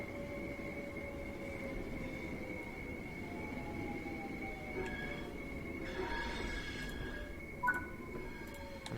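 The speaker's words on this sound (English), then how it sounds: "All I heard was train motors." Southeastern Class 700 train motors whine steadily, with sustained electric tones that slowly shift in pitch over a low rumble of wheels on track, plus a brief metallic squeal near the end.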